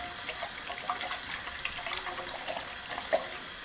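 Water runs from a tap into a small amount of dish soap to dilute it, a steady close splashing stream with small bubbling spikes, no voices.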